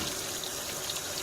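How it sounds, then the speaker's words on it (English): Warm tap water runs in a steady, close hiss as a wig is rinsed, an even wash of flowing water with no pauses and no talking. "I'm going to rinse it with warm water now"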